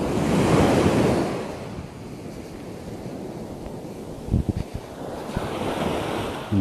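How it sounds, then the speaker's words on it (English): Ocean waves breaking and washing up a beach, a loud continuous roar of surf with wind buffeting the microphone, swelling and easing, and a few brief knocks near the end. "And then we have a big wave coming."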